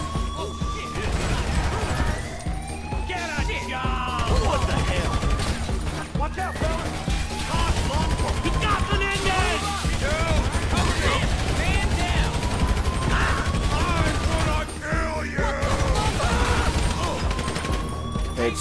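Rapid gunfire during a GTA V casino heist, dense bursts of shots and crashes continuing with hardly a pause over game background noise.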